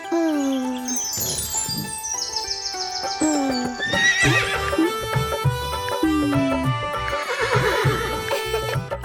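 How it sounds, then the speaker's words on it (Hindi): Cartoon horse in a Hindi nursery rhyme whinnying loudly several times over rhythmic clip-clop hoofbeats, with bright jingling accents and music throughout. "चल मेरे घोड़े चल टिक टिक"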